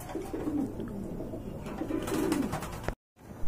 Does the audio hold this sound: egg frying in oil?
no